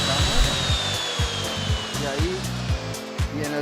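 A router bit spins and cuts material while KOBER decking is installed, a loud continuous whirring with a slowly falling high pitch and regular pulsing knocks beneath it.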